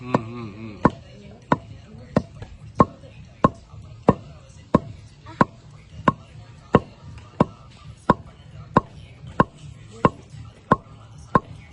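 A stone mortar and pestle pounds homemade masala spices in a steady, evenly spaced rhythm of sharp, close thuds, about two strikes per second, with faint background voices.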